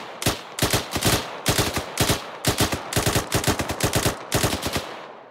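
Machine gun fire in ArmA 3 during an Afghanistan deployment, loud close bursts of rapid shots in a steady repeating rhythm, about a dozen short volleys with brief gaps between them.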